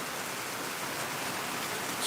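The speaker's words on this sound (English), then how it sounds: "Enjoying the beautiful rain." Steady rain from Hurricane Delta's rain bands pours down in a continuous, even hiss of falling water on surfaces, close and uninterrupted, with no voices.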